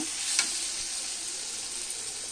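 Green chili, salt and turmeric being stirred in a hot pan for baingan bharta, a soft, steady sizzle with a brief scrape of stirring near the start, no talk.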